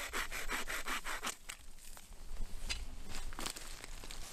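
A handheld saw with a universal blade cuts through wood in rapid, even back-and-forth strokes up close, followed by slower, rougher rasping strokes with no talk.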